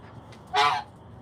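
A single loud goose honk rings out close by in a backyard flock of chickens, ducks, turkeys and geese, a brief nasal blast over a low outdoor background.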